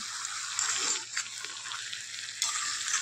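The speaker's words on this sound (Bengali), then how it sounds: "বাঁধাকপি আলু ভালো করে মশলার মধ্যে কষিয়ে নেব" Cabbage and potato stir-fried in spices hiss with a steady, bright sizzle in the pan. Faint scrapes of stirring come through now and then, with no voices.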